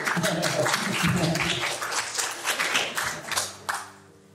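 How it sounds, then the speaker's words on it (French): An audience at a reading in Marignane claps for a few seconds, close and lively, then thins out and fades to quiet. "oui, on peut l'applaudir."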